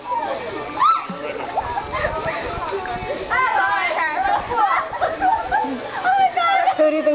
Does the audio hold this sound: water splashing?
yes